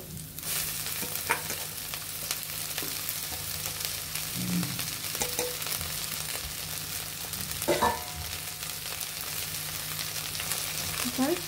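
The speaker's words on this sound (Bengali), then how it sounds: "শাকের উপরে একটু লবণ দিয়ে দিব যাতে তাড়াতাড়ি শাকটি ভাজা ভাজা হয়ে যায়" Jute leaves (pat shak) fry in a pan with a little salt, giving a steady close sizzle broken by occasional clicks and scrapes of stirring.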